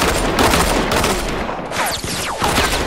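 Rapid gunfire in Fortnite Battle Royale, with dual pistols in play: dense, overlapping volleys of shots crackle continuously and loudly throughout, forming a busy, chaotic barrage with no talking.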